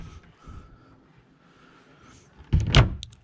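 A wardrobe door aboard a Galeon 680 yacht cabin opens with a brief, close knock and rattle near the end, after a stretch of quiet room tone.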